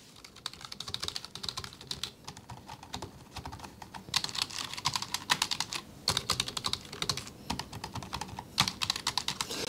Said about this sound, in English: I'm just going to give it a bit of a type so you can hear it.